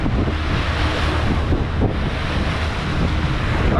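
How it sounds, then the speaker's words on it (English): Tidal water rips around a bend in the sea near Airlie Beach in the Whitsundays, heard as a loud, steady rushing wash mixed with heavy wind buffeting the microphone, with no break. "tide's just ripping around the bend here, and it looks amazing"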